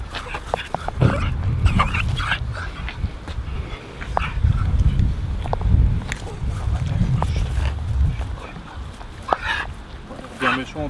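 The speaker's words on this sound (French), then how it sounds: "Là, le pauvre chien." A dog stuck near a tree far off in the countryside barks in short bursts and whimpers, mixed with voices of people talking nearby and rustling footsteps.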